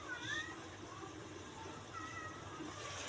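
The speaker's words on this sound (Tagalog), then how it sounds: "Uy, may background sounds ako. Yung aking mga pusa, oh, nagugutom na." Faint cat meows rise and fall a few times over a steady background hum, thin and somewhat distant.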